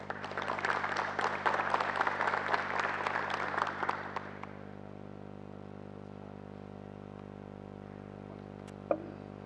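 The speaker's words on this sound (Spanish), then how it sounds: "recibámoslos con un caluroso aplauso" Warm audience applause for presenters at a Wi-Fi technology talk, a dense wash of clapping over a steady low hum for about four seconds, then quickly fading to room tone with one faint knock near the end.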